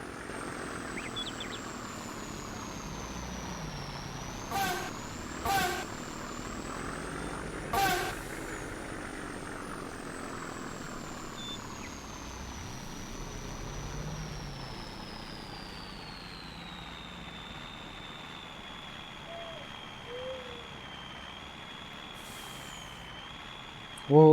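An Isuzu Dega 270 truck hauling rock at a mine rumbles steadily at a distance, with a few short bursts of air brake hiss and a droning, whining loud exhaust note throughout.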